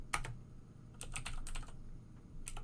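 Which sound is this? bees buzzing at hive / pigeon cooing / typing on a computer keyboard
typing on a computer keyboard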